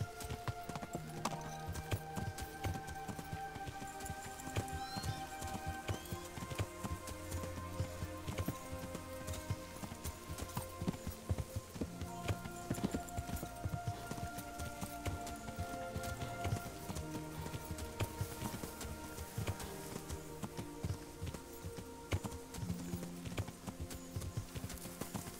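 Horse hooves clip-clop steadily on a cobbled path in the medieval game Kingdom Come: Deliverance, with a brief whinny, set against constant background music.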